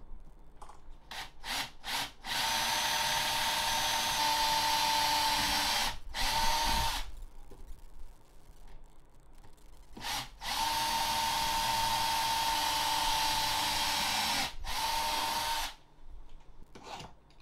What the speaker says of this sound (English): Now it's time to drill the holes to mount the metal bracket to the SD card reader.